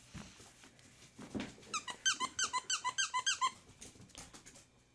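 A soft plush bear-like dog toy with dangling stretchy legs gives a quick burst of about ten rapid, close squeaks in a steady rhythm, then goes quiet, with faint handling rustle around it.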